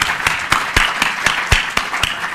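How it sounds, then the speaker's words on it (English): A small audience at a celebration gives a short round of clapping, the claps landing as distinct, evenly spaced sharp strikes, fairly close and loud, with no talking over them. "We could have a little clap."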